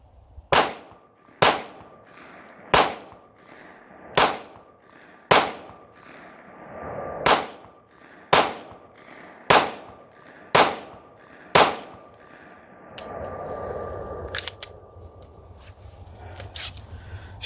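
A BRG9 Elite pistol, caked in dirt and mud during a torture test, fires a string of about ten sharp, loud shots at a fairly even pace outdoors, each with a short ringing tail, then falls quiet into low background rumble.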